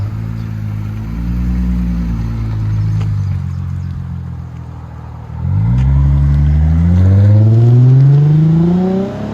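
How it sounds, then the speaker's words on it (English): A 2008 Lexus IS 250 with a 2.5L V6 and a Megan Racing exhaust revs loudly and close, holding a steady drone, then surges through a rising rev climb with the exhaust note sweeping upward. "Lexus IS 250 with a vibrant mid and Megan Racing rear."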